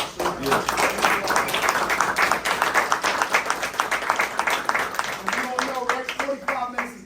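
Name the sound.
round of applause at workshop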